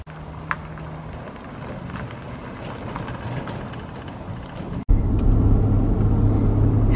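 A car driving back to Seattle gives a steady low road rumble from inside the cabin, which becomes noticeably louder and fuller partway through. No one speaks.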